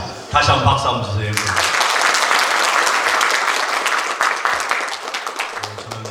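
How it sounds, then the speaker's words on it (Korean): A congregation applauds at a church founding and elder ordination service, sustained dense clapping swelling after brief speech at the start and fading as a voice returns near the end. "다시 한번 박수 한번 주세요"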